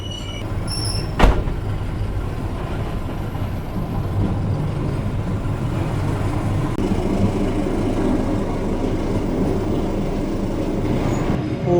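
The KA Sribilah Utama train pulls into Perlanaan station with a steady low rumble of wheels and carriages, a sharp clank early on, then a continuous rolling drone that builds slightly.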